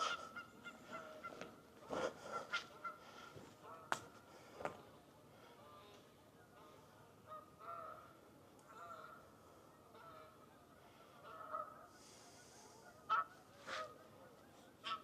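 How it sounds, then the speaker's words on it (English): Geese honk repeatedly in the open air while flying, calls rising and falling at a moderate distance over a quiet countryside background. "There's some geese by the sound of it flying around."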